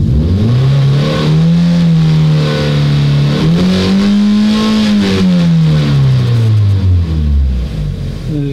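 A warmed-up car engine revs during an oil pressure sensor test, loud and close, the pitch climbing, holding, rising again to a peak and then falling back toward idle over several seconds.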